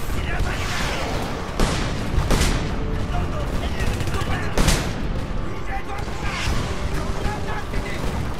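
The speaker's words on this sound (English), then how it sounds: "Damn grenades!" Dense, loud combat in the video game Homefront, with repeated gunfire and several sharp booming blasts from grenade explosions near 1.6, 2.3 and 4.6 seconds over a continuous wash of battle noise.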